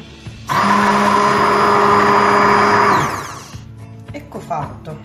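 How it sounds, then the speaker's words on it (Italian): An immersion blender emulsifying salt and oil kicks on with a loud, steady whirring drone, runs for about two and a half seconds, then winds down. A voice speaks briefly afterward. "andiamo ad emulsionare con il nostro mixer"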